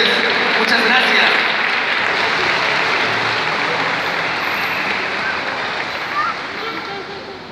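Loud, steady applause from a crowd in the central courtyard of the Xalapa municipal palace after a university mariachi performance, dense clapping slowly fading toward the end.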